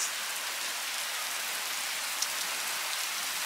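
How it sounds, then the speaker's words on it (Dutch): Steady rain falls close by, pattering onto a small porch roof above the front door in a continuous broadband hiss, with no voices. "Jee, het regent."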